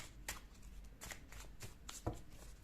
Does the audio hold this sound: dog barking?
no